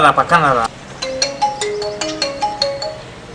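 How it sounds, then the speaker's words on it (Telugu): A voice speaks briefly, then a phone ringtone plays a repeating melodic pattern of short electronic tones. "ఎవరు అన్నిసార్లు ఫోన్ చేస్తున్నారు?"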